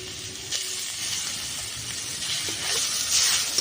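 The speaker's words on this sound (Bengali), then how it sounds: "আমি এখন বিট আর গাজর দিয়ে দেবো" Grated beetroot and carrot dropping into hot oil and spices in a pan, a steady sizzling hiss that swells slightly toward the end, with small stir noises and no talking.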